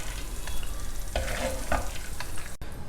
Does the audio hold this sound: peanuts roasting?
yes